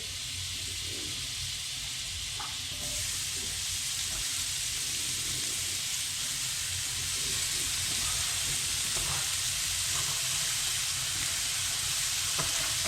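Leek sizzling steadily in hot oil and butter in a pan, a continuous bright frying hiss with occasional stirring clicks, close and fairly loud, with no talk.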